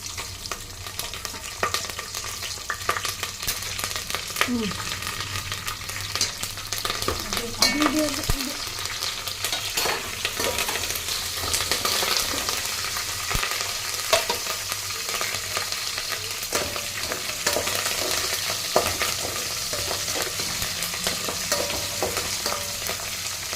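Green chillies, mustard seeds, cumin and curry leaves sizzling in hot oil for a Telangana vegetable chutney, a steady loud crackle with occasional spoon scrapes, close and continuous.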